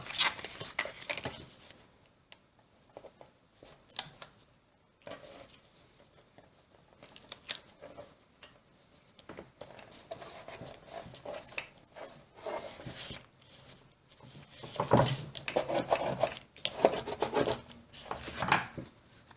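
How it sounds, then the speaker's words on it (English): A folded paper Christmas tree pocket page being burnished down, producing dry rubbing and scraping strokes on paper in irregular bursts, close and soft, getting busier and louder toward the end, without speech. "Fold behind, burnish this down a bit."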